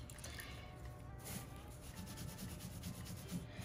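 Chalk-type paint on a frame is wet distressed with soft, faint rubbing and scrubbing strokes, close and quiet over a low background hum.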